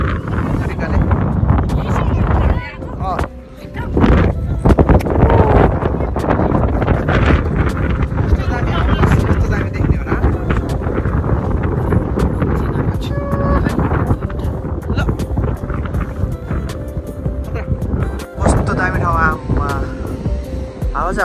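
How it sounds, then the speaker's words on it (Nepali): Strong wind blows across the microphone at the Golden Gate Bridge, heavy gusty rumbling and buffeting throughout, with faint voices and traffic underneath. "हावा चल्ने रहेछ घाम पनि ल्याएर हावा पनि चल्ने"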